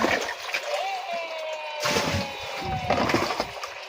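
Water splashes and rushes steadily at close range, with a couple of louder surges and faint voices beneath.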